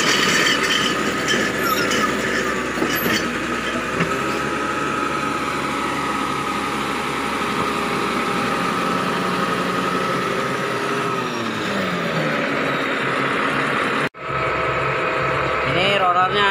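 Caterpillar D6D bulldozer reversing with a steady, loud diesel engine drone and mechanical vibration throughout, undercarriage rattle on worn rollers with broken bolts, continuous and close with a brief dropout near the end.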